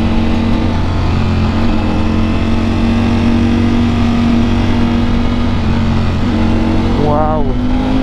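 A truck engine drones close by on a road in Nueva Vizcaya, a loud steady rumble with a shifting tone near the end as it passes.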